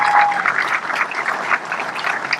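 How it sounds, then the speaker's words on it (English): Crowd at the outdoor opening of a new highway welcome center on the Long Island Expressway applauds the construction workers, a steady, moderately loud wash of many hands clapping throughout. "So let's give all of them a big round of applause."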